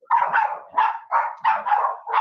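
Several dogs bark at someone at the door, a close, loud series of about six sharp barks in quick bursts with short gaps between them.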